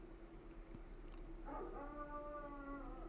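A dog howls nearby, a rising, wavering drawn-out howl starting midway through and holding to the end over a low steady background hum.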